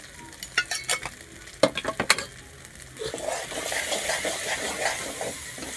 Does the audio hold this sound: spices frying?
yes